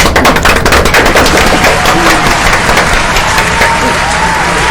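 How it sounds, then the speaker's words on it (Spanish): Loud audience applause at a human rights and gender violence event, dense rapid clapping that is strongest at the start and then settles into a steady wash. "le paso el micrófono a mi querida Patricia, dándole la bienvenida y un fuerte aplauso."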